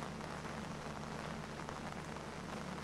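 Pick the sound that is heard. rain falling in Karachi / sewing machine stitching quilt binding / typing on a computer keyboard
rain falling in Karachi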